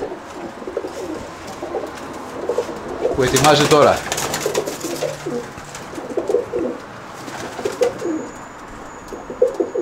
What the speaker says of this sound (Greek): Να τα και τα πουλάκια μας.